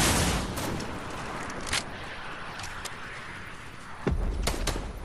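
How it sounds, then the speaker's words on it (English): Gunfire in the video game Fortnite: several sharp shots crack out in short bursts over a steady hissing game background, with a heavier boom near the end. "That's somebody else you're shooting."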